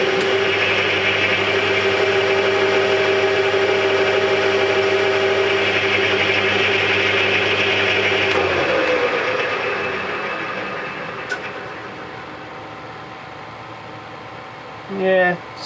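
A small lathe cutting a metal chair ram makes a steady, loud whirring hum with a thin high cutting whine for about eight seconds, then spins down and fades to quiet, with a brief bump near the end.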